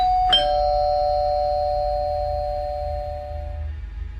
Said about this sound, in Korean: 초인종을 눌렀다.